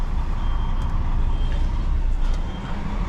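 Reversing beeps from a C+E articulated truck backing out onto a main road, a high tone repeating faintly over a loud, steady diesel engine rumble.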